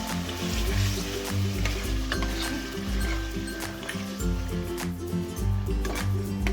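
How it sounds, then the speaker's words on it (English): Marinated mutton sizzles on high flame, a constant crackling hiss mixed with occasional clinks and stirring scrapes, steady and close. "marinated mutton. Mix and cook on high flame."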